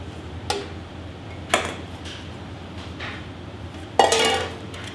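Ricotta, Parmesan and minced pork belly get mixed in a bowl, with a few sharp, sparse clinks and knocks of utensil against bowl over a quiet background, the last one louder and longer.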